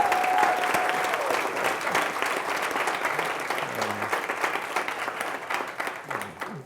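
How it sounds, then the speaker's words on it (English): Steady applause from an audience fills the space, a dense wash of clapping that holds evenly and then slowly tapers. "I think he deserves a round of applause."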